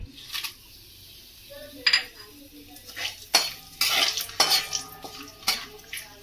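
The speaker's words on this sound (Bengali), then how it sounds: "আলু ভাজার তেলে আমি ফোড়নটা দিয়ে দেবো।" Whole spices dropped into hot potato-frying oil give brief sizzling bursts amid stirring scrapes and clinks of a metal spoon against the pan, intermittent and fairly close.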